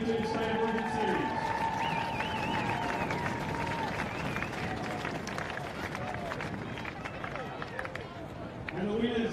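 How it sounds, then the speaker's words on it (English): Crowd applause at a State of Origin sports presentation ceremony, sustained dense clapping and cheering filling the whole stretch, with voices over a public address mixed in. "can we get everyone to give a big round of applause to everyone that made the Women's 50s possible"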